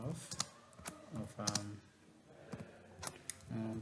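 Keys clatter on a computer keyboard in short bursts of quick clicks with brief gaps between them, while a voice talks in the background.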